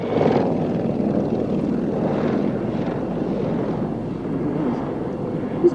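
A Lynx helicopter in a flying display manoeuvre, its rotor and engine roar steady and fairly loud throughout, a broad rumbling drone that holds level with slight swells.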